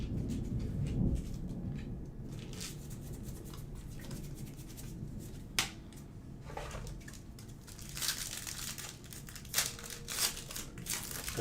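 A violent thunderstorm with deep rumbling thunder and rain, marked by sharp cracks and rolling bursts at a moderate distance.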